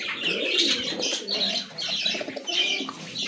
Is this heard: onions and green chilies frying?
no